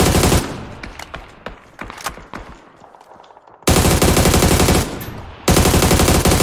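Rifle gunfire in a first-person shooter video game: loud, rapid automatic bursts, first scattered single shots and short volleys, then dense sustained strings of fire at close range.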